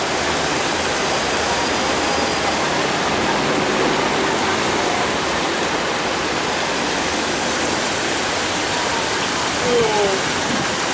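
Water splashes continuously from fountains in front of a building in Rome, a loud, dense wash of rushing spray that holds steady throughout with no pauses.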